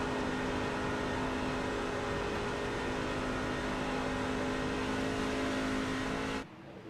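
A racing truck engine in iRacing holds a steady, loud droning whine at Atlanta, then cuts off abruptly near the end.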